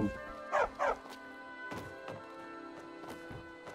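A dog in the Skyrim video game barks two sharp, close yips, then softer game sounds and ambient music continue.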